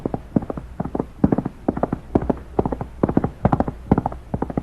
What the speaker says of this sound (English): That's Bowie's horse coming up the trail.